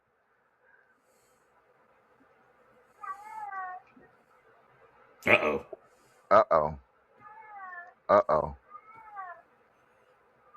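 A studio cat meows several times with drawn-out, wavering cries spaced across a quiet room, while someone speaks briefly between the calls.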